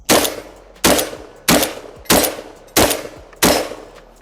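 Rev Arms Impact R4 airsoft rifle firing after a dirt torture test and a shake, six sharp close shots in a steady semi-auto rhythm about two thirds of a second apart, each with a short ringing tail.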